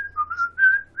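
A person whistles a short, wavering little tune, a few clear pitched notes rising and falling over about a second, close and alone.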